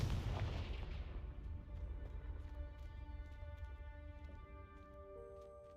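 A fiery Confringo spell blast in the Hogwarts Legacy video game, opening with a loud, dense booming burst that decays into a long rumbling tail, with faint sustained musical tones rising behind it.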